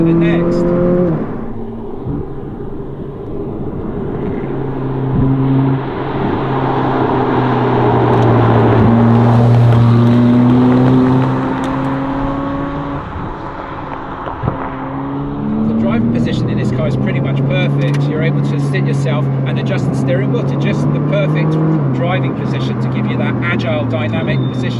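A Ferrari 458 Speciale sports car drives through corners, its engine rising and falling in pitch as it revs up, lifts off and shifts gears, heard close and loud beneath someone talking.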